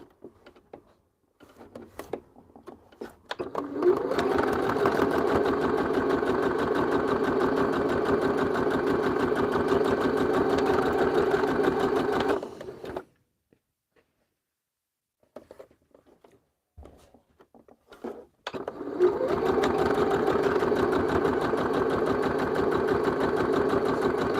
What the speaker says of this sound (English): Let's get them sewed. Starting with the small rectangles.